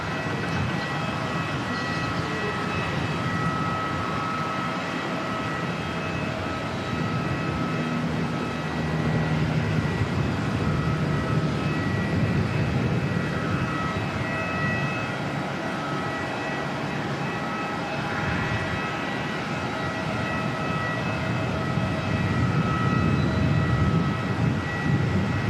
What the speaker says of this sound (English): Got American flight 82 heading back off to Los Angeles